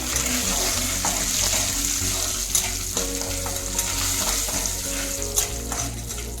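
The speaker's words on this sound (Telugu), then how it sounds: "ఈ పోపు వేగిపోయిన తర్వాత" Spice tempering sizzles and crackles steadily in hot oil in a pan for a lotus root curry with dried red chillies, with a low hum and faint stirring clinks throughout.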